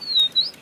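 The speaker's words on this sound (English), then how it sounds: "they make bird sounds," A Digibirds singing bird toy gives a single short electronic chirp, a clear high whistling tweet that dips and rises, heard close and alone.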